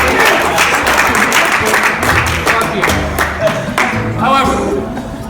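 A group on a Survivor-style reality game show claps and cheers together in a dense, continuous burst of applause with shouts mixed in, loud and close throughout.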